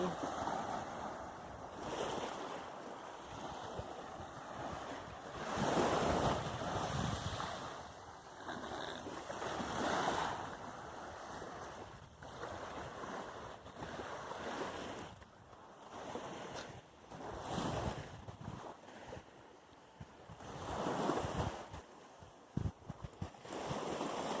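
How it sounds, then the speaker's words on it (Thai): Sea waves wash onto the beach at Khao Tao in Thailand in repeated surges, with steady wind noise buffeting the microphone throughout. "ทะเลสวยมากเลย น้ำทะเล น้ำทะเลสวย"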